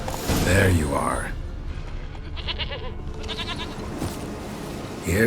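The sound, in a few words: goat bleating in video game The Witcher 3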